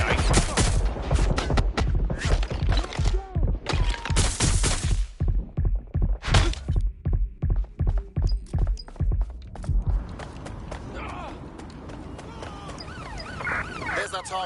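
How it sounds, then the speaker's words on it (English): Rapid bursts of gunfire fill a Watch Dogs: Legion shootout, loud clustered volleys and single shots repeating for about ten seconds before fading into a busier, softer din; voices talk over parts of it. "Suspect open fire!"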